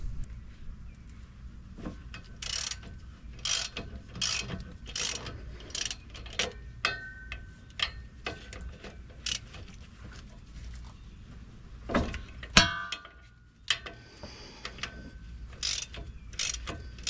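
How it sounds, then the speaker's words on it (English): Tools cut the clamps off a small drive shaft boot, close up, a string of sharp clicks, snaps and metallic ratcheting with brief pauses and one louder clank near the middle. "then I'll have to cut these clamps on this little boot"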